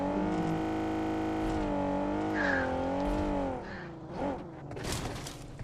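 A car driving in the mobile battle royale game BGMI, played on a OnePlus 15R phone: a loud, steady engine drone that rises and falls, then cuts into rougher clatter and brief bursts near the end.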